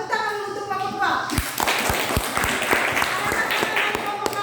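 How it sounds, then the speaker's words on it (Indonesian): A class of children applauding a student group after its presentation, clapping that breaks out after a teacher's brief spoken remark and continues as a steady, dense patter to the end. "Tepuk tangan untuk kelompok 2."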